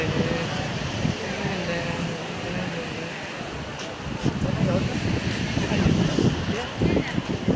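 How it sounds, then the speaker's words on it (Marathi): Wind and surf at the sea shore of Alibag beach, a constant rushing roar of breeze across the microphone with waves washing in, louder gusts later on, and a voice talking underneath. "अलीबाग चौपाटी अलीबाग समुद्र किनारा"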